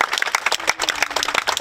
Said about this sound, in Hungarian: úgyhogy nagy-nagy tapsot szeretnénk kérni